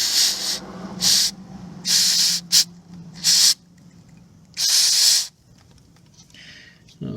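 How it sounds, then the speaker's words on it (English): Several bursts of hissing spray from an aerosol sealant can on a motorcycle boot, each lasting about half a second to a second, repeat at irregular intervals up close with quiet pauses between them. "I've shook the can, and can I get in there to actually spray it?"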